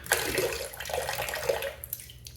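Water streams and splashes steadily off a soaked 28 mm high-density badger shaving brush, a close, continuous wet rush lasting the whole moment.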